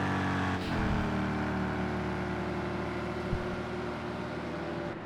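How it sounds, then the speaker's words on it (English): A Corvette race car engine in a Daytona 24 Hours sim race holds a loud, steady drone with layered harmonic tones and a slight pitch shift, close and continuous with no talk. "You can hear that Corvette"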